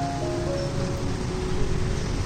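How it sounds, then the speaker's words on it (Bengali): Light drizzling rain falls outdoors under a cloudy sky, a soft, even patter and hiss that continues steadily at moderate level with faint background tones. "ঝিরিঝিরি শুরু হয়েছে, খুব জোরে নামেনি।"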